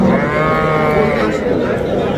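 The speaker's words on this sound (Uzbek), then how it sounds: "Qo'ylar." Sheep bleating at a livestock bazaar in Khojaobod, Andijan: drawn-out, wavering bleats sound close by over a busy background of crowd murmur.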